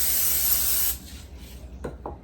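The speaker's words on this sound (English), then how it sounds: "I went ahead and added a small amount of non-stick grease to prevent the buns from sticking." Grease sprayed from a can onto a hot cast iron flat skillet, a loud steady hiss for about a second, then faint sizzling with a couple of soft scrapes.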